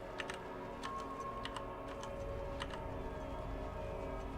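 In the Legend of Grimrock II dungeon, crisp clicking ticks come in uneven bursts of two or three above a constant humming background, fairly close and unaccompanied by speech.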